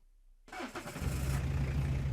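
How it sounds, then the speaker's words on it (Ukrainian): A car engine is cranked and catches on a frosty Tuesday morning, a loud close start that settles into a steady running idle. "Морозний ранок вівторка, і Богдан Мельник заводить мотор."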